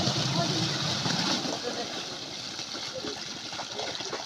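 Water gushes steadily from a newly started large irrigation pump with a 5-inch pipe, a loud continuous rushing that fills the scene, with a voice talking over it.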